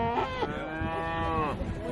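A single bovine moo, long and drawn out with a rich harmonic tone, rises loud and near at an agricultural show ring where Aberdeen Angus, Limousin and Simmental heifers are judged.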